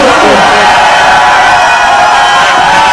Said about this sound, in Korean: 저는 박수도 좋아하고 함성도 좋아합니다.